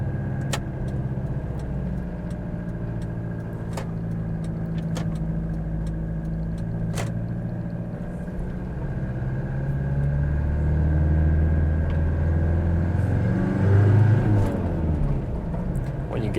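A 1989 Toyota Hilux LN106 diesel pickup drives along with a steady low engine drone and road rumble that swells as it accelerates, heard from inside the cab with no talking.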